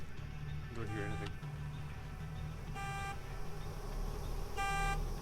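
Car horn in the horror video game Worse Than Death, three separate honks, each about half a second long and spaced a couple of seconds apart, sounding over a low droning ambient game soundtrack.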